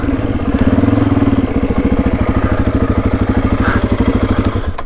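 A dirt bike that has just been dropped, engine still running, with a loud, close, rhythmic idle whose pulses thump evenly throughout and roughen slightly midway, with no talking.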